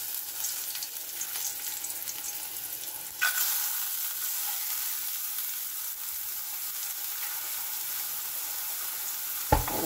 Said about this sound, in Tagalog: maglagay po tayo ng kaunting virgin oil or olive oil. At ilagay na po natin ang ating pangisa.